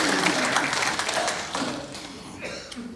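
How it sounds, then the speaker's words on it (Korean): A church congregation claps together, steady and dense, and the applause fades toward the end, with a few faint voices mixed in. "박수 한번 해줍시다."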